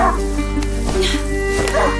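Dog barks and yips in the game A Plague Tale, several short calls spread through the clip over a steady in-game music and ambience bed.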